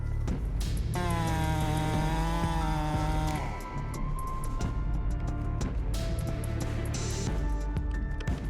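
A high-powered chainsaw saws a huge 1.5-meter-wide, 1,000-year-old red oak stump into slabs, its loud steady whine running continuously with a pitch that rises and then drops as the cut changes.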